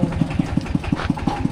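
Walking hand tractor engine running, a steady, close single-cylinder chug with evenly spaced low thumps repeating about five to six times a second, loud and alone.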